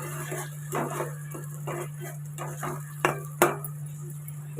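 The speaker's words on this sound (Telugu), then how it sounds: "ఆ టమాటా పేస్ట్ వేసుకోవాలి. వేసుకున్నాక ఒకసారి బాగా కలుపుకోవాలి" Tomato paste stirred into an okra curry in a pan, with soft irregular scraping and clinks of a spoon against the pan, fairly close and moderate, over a steady low hum.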